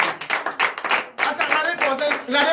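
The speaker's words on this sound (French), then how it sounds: "Donnez l'acclamation à notre Seigneur Jésus" Rhythmic clapping of a congregation acclaiming Jesus during a night deliverance church service in Benin, brisk and loud with claps tightly grouped, mixed with voices and cheering.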